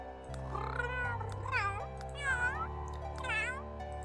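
A cat meow voice preview from The Sims 3 Create-a-Cat plays as a series of several drawn-out, wavering synthetic meows over a steady low musical backing.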